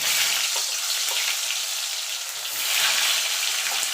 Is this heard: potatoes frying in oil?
yes